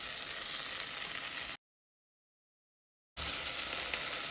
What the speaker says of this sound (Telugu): అల్లం వెల్లుల్లి పేస్ట్ కొంచెం పచ్చివాసన పోయే వరకు ఫ్రై చేసుకోండి